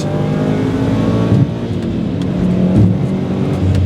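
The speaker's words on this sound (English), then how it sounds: "The sound is maybe a little bit bland" A Subaru WRX STI Spec C equal-length-header flat-four engine revs loudly and close, with a smooth, even drone that swells twice in brief surges.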